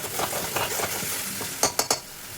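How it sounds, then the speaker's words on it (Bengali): Spices fry and get stirred in a pan for a pumpkin curry with prawns and fish heads: a steady sizzle under soft stirring, then three quick metallic scrapes near the end, with no talking. "আর এখন এখানে এটা মশলা কষানো হচ্ছে"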